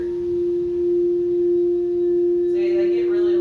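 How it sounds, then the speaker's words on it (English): A crystal singing bowl rings with a steady, pure sustained tone and faint overtones, humming close and even throughout, with a brief soft rustle near the end. "The crystal bowls too. If I kept going, it could really get loud and it just resonates on down."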